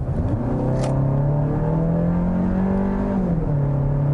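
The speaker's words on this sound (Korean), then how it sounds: "먼저 말씀드릴 부분이 이 엔진 사운드입니다" A Kia Sportage 1.6T facelift Signature engine accelerating, a loud, steady droning tone that climbs in pitch and then eases back near the end, with no talking.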